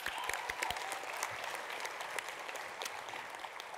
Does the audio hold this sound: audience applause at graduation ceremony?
yes